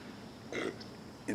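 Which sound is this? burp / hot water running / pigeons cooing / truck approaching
burp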